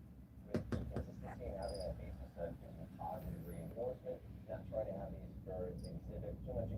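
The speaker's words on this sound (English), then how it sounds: "We've got baby crickets" Tiny baby crickets kept in a home enclosure with storage mites give faint, steady high chirping under a speaking voice and soft background handling noise.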